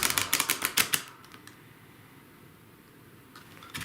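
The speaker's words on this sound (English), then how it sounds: "just shuffling, listening to the cards, taking a breath whenever I hear that riffle" Riffle shuffle of a deck of tarot cards, a quick burst of about nine crisp, close flutters over the first second, then near silence, with another faint flutter starting at the very end.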